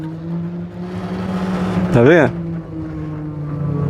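Small motor on a homemade cargo bike built around a 200-litre drum, droning steadily as it climbs a hill, its pitch briefly rising and wavering as the rider weaves sideways, with someone talking over it.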